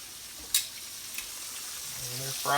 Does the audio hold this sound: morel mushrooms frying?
yes